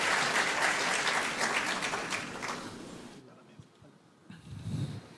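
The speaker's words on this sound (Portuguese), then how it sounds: "Auditório aplaude o painelista, que é cumprimentado pelos pares da mesa." An auditorium audience at a rural congress panel applauds a panelist with dense, loud clapping that fades out after about three seconds, followed by a brief quiet and some murmuring.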